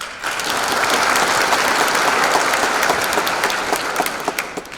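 Audience at a 2019 online high school graduation ceremony in Denver claps steadily in sustained, dense applause, loud and close, with scattered sharper individual claps standing out near the end.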